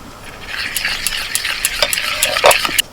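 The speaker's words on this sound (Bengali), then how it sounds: "সব কিছু ভালো করে মিশিয়ে নেব" A spoon stirs and mixes a ground paste of poppy seeds and green chilli with salt, turmeric and mustard oil in a bowl, giving close, irregular scraping and clinking strokes.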